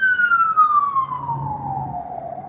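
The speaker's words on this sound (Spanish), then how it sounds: "Esperen que pase la ambulancia." An ambulance siren passes on a street, its wail sliding steadily downward in pitch as it moves away, loud at first and then fading over a low traffic rumble.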